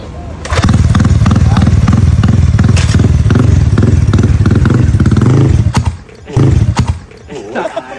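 Motorcycle pulling off in first gear, its engine roaring loudly and steadily for several seconds before cutting off, then a short second burst; voices can be heard around it.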